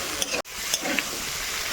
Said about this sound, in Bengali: খুব ভালোভাবে নেড়ে চেড়ে নেব আর কিছুক্ষণ এখানে ভেজে নেব মশলার সঙ্গে ফুলকপি,